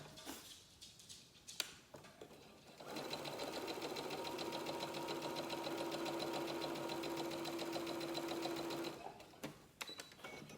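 A sewing machine runs in one sustained burst of about six seconds, a steady close mechanical whir and rapid needle chatter while stitching quilt triangles, with quieter handling before and after.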